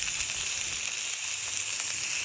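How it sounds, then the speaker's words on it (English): Garlic sizzles in hot fat in a pan over an open fire while a ribeye steak is warmed, a continuous bright crackling hiss that is close and steady. "fry the garlic and put the garlic on top of the ribeye steak"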